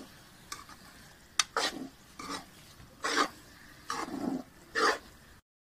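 Sweet vermicelli (kimami seviyan) being stirred and roasted in a pan, with a series of separate scraping, rasping strokes in an uneven rhythm, close and fairly loud, followed by a short silence, with no talking.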